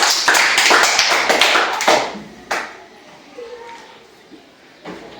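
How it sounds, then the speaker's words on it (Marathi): Schoolchildren in a primary-school classroom clap their hands together in a loud, dense burst that fades after about two seconds, followed by a few scattered taps and faint voices. "इतरही सगळ्यांनी टाळ्या वाजवायच्या"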